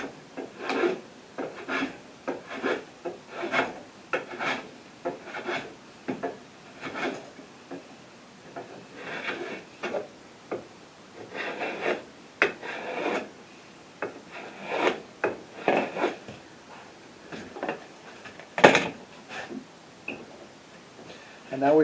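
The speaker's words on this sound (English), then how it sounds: "I'm going to use this block plane and remove the wood for the taper." A block plane shaves wood to taper an acoustic guitar's peg head, giving repeated rasping strokes in an irregular rhythm, close and moderately loud, with occasional talk between passes.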